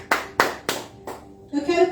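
Hands clap four times in a slow, uneven rhythm during a church worship service, close and fairly loud, followed by a sustained voice or tone rising at the end.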